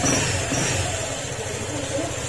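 A Honda ADV150 scooter engine runs noisily at a steady idle after an engine rebuild with new crankshaft and block, giving a continuous, close rumble with a faint mechanical whine above it.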